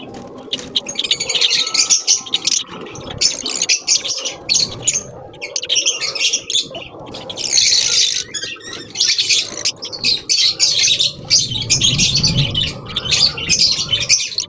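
Parrots bathing to rid them of lice, chirping and squawking loudly and nearly nonstop up close, with splashing and pattering mixed in.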